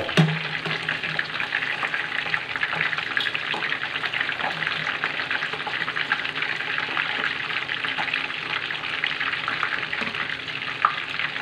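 Breaded milkfish frying in hot oil, a steady dense sizzle with crackling pops running evenly throughout, close and moderately loud with no voices.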